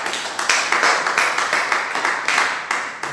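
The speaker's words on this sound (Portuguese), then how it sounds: "Você pode aplaudir o Senhor, né?" Church congregation at a missions service clapping in a steady rhythmic beat, close and fairly loud, roughly three claps per second without talk.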